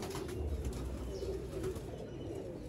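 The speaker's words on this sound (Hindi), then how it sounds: "ये बड़ा ब्रीडर कबूतर था एक" Breeder pigeons cooing nearby, soft low repeated coos over a constant background hum, no talking.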